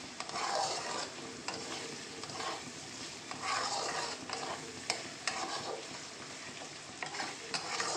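Mutton stir-fried in its own fat in a pan, with a spatula scraping and turning at a steady, repeated pace over a continuous nearby sizzle, moderately loud and without speech.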